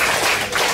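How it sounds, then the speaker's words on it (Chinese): A classroom full of students applauds during a university programming lecture, dense continuous clapping heard close and loud through a short burst. "大家先给润虫掌声"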